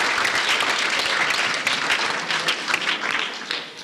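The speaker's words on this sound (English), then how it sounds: "Let's applaud them." An audience gives lively, sustained applause for a school placed third in a police independence quiz in Barbados. The dense clapping runs throughout and eases slightly toward the end.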